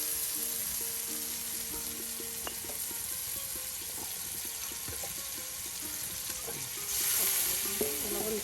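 Taki fish pieces fry in oil with ground spice paste, giving a steady close sizzle with scattered crackles and a few stirring clinks, with no voices.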